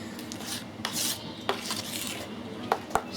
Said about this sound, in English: I just keep squirting it in and keep stirring it until I'm satisfied with the colour